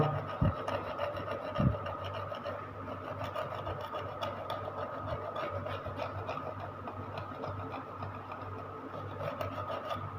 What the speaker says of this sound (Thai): ใช้ใบมีดนะครับ ใบมีดปลายมีดขูดดู